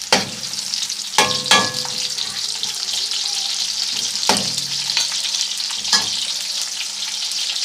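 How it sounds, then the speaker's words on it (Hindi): Onion fries lightly in a pan for cauliflower chicken, a constant close sizzle with several sharp spoon clicks and scrapes against the pan, no one talking. "ये प्याज मैंने डाला, इसको हल्का सा फ्राई करना"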